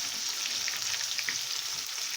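Eggplant pieces frying in hot oil while being stirred in a pan, a steady close sizzle with light scraping and stirring movements throughout, no talking.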